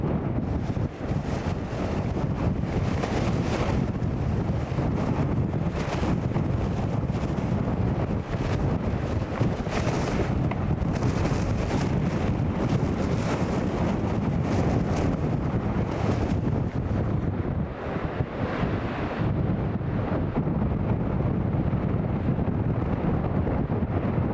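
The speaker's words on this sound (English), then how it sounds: "hopefully you can actually hear us above the wind, just." Strong, steady wind buffets the microphone throughout during a crosswind at Newcastle International Airport, a constant loud rumble with gusty surges and no clear voices.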